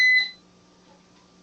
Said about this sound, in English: you hear that beep? That's my air fryer finishing.